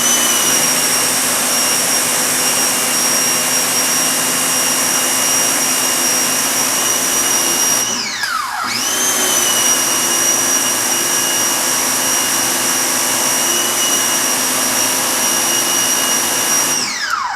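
A Ryobi 1800 PSI, 1.2 GPM electric pressure washer runs loud and steady with a high whining motor tone, dipping briefly midway as it momentarily stops and restarts, with no talking.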